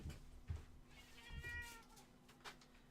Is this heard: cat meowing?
yes